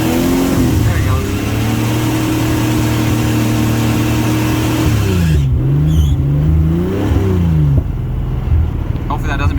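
A car engine idles and revs in the pits at a track practice session, belt not squealing, producing a loud steady drone with rising and falling rev sweeps midway, with voices over it.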